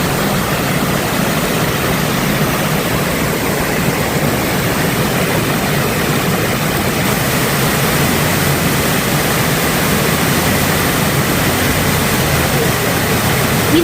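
Cass River waterfall in Frankenmuth, Michigan, rushing as a loud, constant broadband roar of falling water that stays unchanged and dense throughout, with no voices heard.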